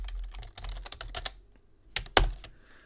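Typing on a computer keyboard while coding in Python, a close run of rapid key clicks in uneven bursts, with a pause and then a few louder, sharper strikes, with no talking.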